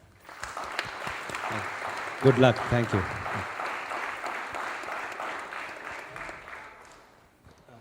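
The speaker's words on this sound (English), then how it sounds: "Let us give Sravani a full, big round of applause." An audience claps for Sravani's Rangapravesam dance debut, a moderate round of applause that swells, holds and fades out near the end, with brief spoken exchanges heard over it.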